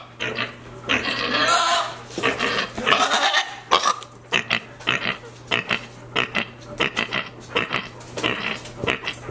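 A young pig grunts and squeals in a run of short, loud bursts close by, starting with longer cries and settling into a quick, rhythmic series.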